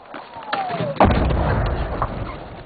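A mortar round explodes inside a military base in Afghanistan: a sharp, loud blast cracks out after a faint whistling sweep, followed by rolling rumble and scattered bangs.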